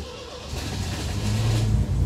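A 1975 MGB starts up after a carburetor rebuild, its engine catching and rising into a steady idle that grows louder and settles into a continuous running hum, with no talk.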